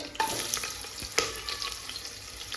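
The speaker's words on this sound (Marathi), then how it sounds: "आता मी एक मीडियम साईजचा कांदा चिरून घेतला असा उभा तो पण याच्यामध्ये टाकते" Sliced onion, cut lengthwise from a medium-sized onion, hitting hot oil in a pan for chicken pulao, giving a steady close sizzle with a couple of sharp crackles and clinks near the start, no voices.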